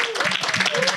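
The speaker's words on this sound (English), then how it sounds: "I want to request you as the audience for a strong round of applause for yourselves" Brief, moderately loud applause from an audience at a panel discussion on reparations and tax justice, many hands clapping in a quick dense burst.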